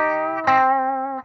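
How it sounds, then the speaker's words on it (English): A single sustained electric guitar chord rings out through a Redbeard Effects Angry Rhubarb overdrive pedal pushed toward distortion, crunchy, gritty and bright, holding about a second before cutting off. "It's an overdrive, but it's going into that distortion territory"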